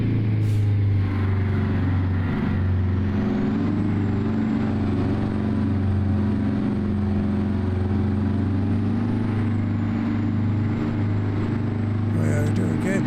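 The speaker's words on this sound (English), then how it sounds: "Get the revs up for this hill here." A heavy truck's diesel engine in American Truck Simulator revs up while climbing a hill while hauling logs near East Glacier, giving a steady, loud low drone throughout with a brief higher rattle near the end.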